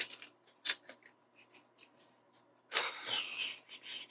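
Tarot cards are shuffled and pulled: soft riffling flicks and light card slaps at close range, with a brighter, longer burst of shuffling near the end.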